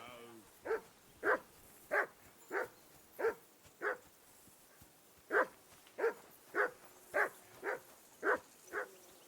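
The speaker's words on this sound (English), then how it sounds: "I assume you can hear that damn dog of yours barking." In Kingdom Come: Deliverance II, a dog barks steadily in two runs of about six and seven barks with a brief pause between them, heard at moderate distance over a quiet outdoor background.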